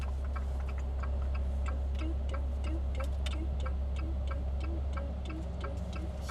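A car's turn signal indicator ticks at a steady, even rhythm in a quiet car park, repeating the whole time over a low engine hum with no talking.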